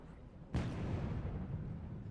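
A detonator explosion in the horror game Outbreak: Shades of Horror, heard as one sudden loud boom about halfway in, with a rumbling tail that keeps going to the end over a low game ambience.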